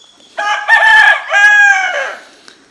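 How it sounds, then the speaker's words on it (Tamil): A Siruvidai rooster crows loudly and close by in a long, drawn-out call with a brief pause midway, followed by a faint cluck. "இதெல்லாம் எங்கள் அடல்ட்டு இப்போ பெரிய கோழிங்க."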